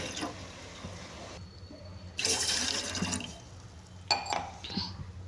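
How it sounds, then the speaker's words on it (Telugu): Two glasses of water poured into a bowl while preparing a sweet corn ragi porridge, a close splashing gush lasting about a second after quieter kitchen handling sounds. "దాంట్లోకి 2 గ్లాసెస్ వాటర్ అయితే యాడ్ చేసుకుంటున్నాను నేను."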